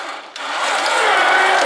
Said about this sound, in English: Man, that winch is no joke.